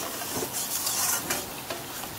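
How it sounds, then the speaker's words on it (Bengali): Chicken kosa frying with spices in a pan, stirred steadily: a constant close sizzle with scraping strokes of the spoon across the pan, and no voices. "আরও কিছুক্ষণ ধরে আমি কষবো, কাঁচা যাতে গন্ধটা চলে যায়।"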